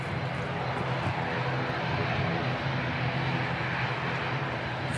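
An aircraft engine roars at Christchurch Airport as a steady, loud broadband drone that stays continuous throughout.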